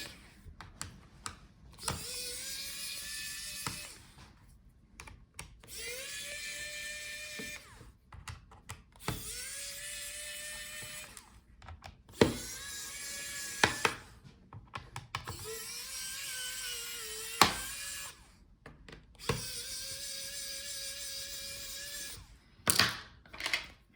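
An electric screwdriver removes the bottom screws from a Dell Inspiron 14 7425 laptop in repeated whirring bursts, each a few seconds long with a rising whine, separated by clicks and small clatter.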